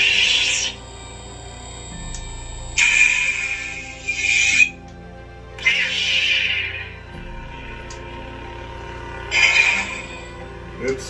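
Ultrasaber and Sabermach lightsabers power on and off in turn, each ignition a bright swelling hiss-hum that holds briefly before fading, with a low steady hum beneath and quiet gaps between.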